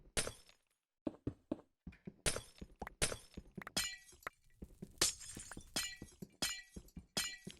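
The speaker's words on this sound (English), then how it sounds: "I like the glass breaking sound effect." Glass blocks shattering one after another in Minecraft, a rapid series of crisp breaking crashes with short gaps between them, loud and close with no talking.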